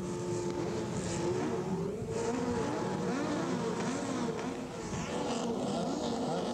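Rallycross cars at the 1982 Dutch championship at EuroCircuit Valkenswaard rev steadily on the start line, several engines droning and wavering in pitch together at a moderate distance.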